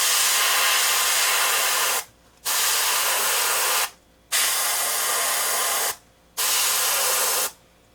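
An airbrush sprays Createx Wicked Pearl Red paint onto fishing lures in four long, loud steady hisses, each stopping briefly before the next burst.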